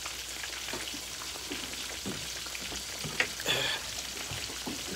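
Fish frying in a pan, a steady hiss and crackle of sizzling oil running evenly throughout at close range, with a brief louder pop partway through.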